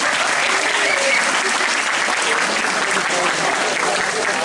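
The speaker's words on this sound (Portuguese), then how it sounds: "Palmas." Sustained audience applause at a public lecture on the first photograph of a black hole, dense and even clapping from a large crowd filling the room for several seconds.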